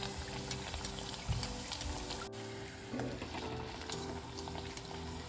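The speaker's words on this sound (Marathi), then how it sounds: "थोडंसं त्याला तळून घेऊ द्यात खालच्या बाजूने आणि मग आपण पलटी करूयात" Bajra millet vadas fry in oil in a pan over a low-medium gas flame, giving a steady, close, even sizzle and crackle throughout with no talking.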